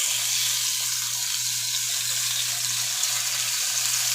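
Edges of a pan-seared rib eye steak searing in a hot pan, a continuous, even sizzle heard close with a low steady hum underneath and no talking.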